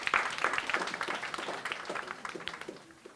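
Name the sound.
audience applauding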